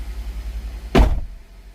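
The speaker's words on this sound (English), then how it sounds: "let me see if I can close the door" A car door on a 2017 Nissan X-Trail T32 hybrid shuts with a single loud, close thump over a low idling hum, with no talk.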